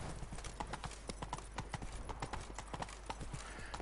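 Geralt's horse Roach trotting in Witcher 3, a steady clip-clop of hooves repeating close by over a constant outdoor game ambience, with no voices.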